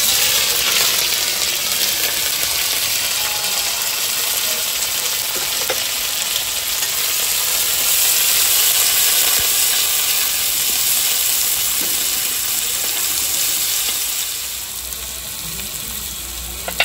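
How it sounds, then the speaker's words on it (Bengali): Potatoes and carrots frying with Malabar spinach seeds in hot oil, giving a steady, loud, close sizzle that holds throughout and eases off slightly near the end. "করছি আলু গাজর দিয়ে আমি ভাজা করছি।"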